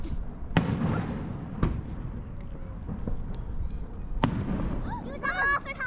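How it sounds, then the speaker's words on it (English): Distant fireworks set off from boats in St. Martin pop and boom a few times, sharp single bursts spaced seconds apart over a low background rumble, with some voices nearby. "We're getting fireworks."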